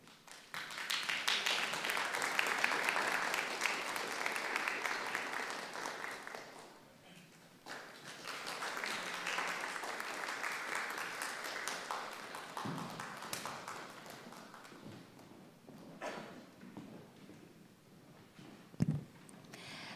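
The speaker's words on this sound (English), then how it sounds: "Please send her a round of applause." Audience applause at a youth summit opening event in Yamagata, Japan, as a governor leaves the venue; sustained clapping from a crowd fills the space, swelling and fading, with a second wave and a few scattered claps and taps at the end.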